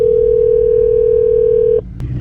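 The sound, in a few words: phone call ringing tone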